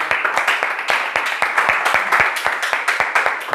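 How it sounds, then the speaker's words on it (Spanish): An audience applauds after a speaker at a business conference, with steady, dense clapping throughout the short stretch and no talk over it. "Venga, un aplauso."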